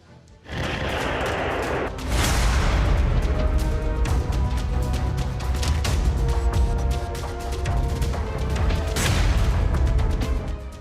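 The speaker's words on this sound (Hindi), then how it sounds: "युद्ध की घनघोर आशंकाओं के बीच बारूद बरस रहा है।" Heavy explosions and artillery fire during a Russian attack on Ukraine, with a sharp blast onset followed by a dense, continuous roar of gunfire and booms, loud and sustained, and another strong burst near the end.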